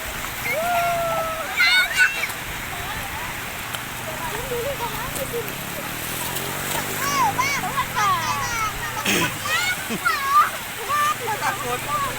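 Water splashing at a beach while children and adults swim, irregular splashes and bursts of wave noise under frequent children's voices and chatter.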